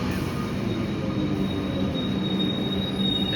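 Older suburban commuter train rolling steadily through Essendon station, one of the oldest sets on the network, loud and continuous with grinding wheel noise and metallic squeal throughout, no voices.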